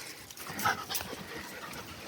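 A dog pants out on a walk, quick, quiet breathy huffs close by with a faint whimper-like edge, steady and low in level.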